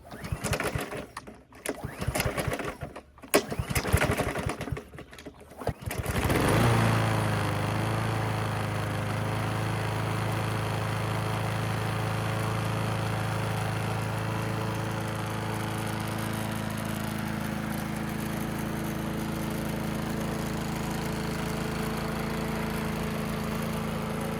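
A Honda-powered Craftsman lawn mower with a newly replaced carburetor is yanked with several rough pull-cord tugs, then the engine catches and settles into a loud, steady running drone that holds to the end.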